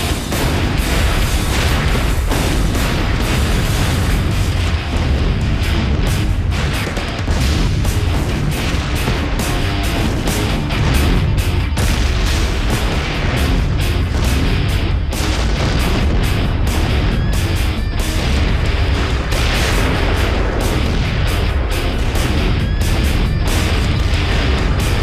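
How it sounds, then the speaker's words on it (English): Acetylene tanks explode one after another inside a burning plant in Texas, a relentless string of loud booms and sharp cracks over a continuous roaring blaze. "Finally, the explosions subside."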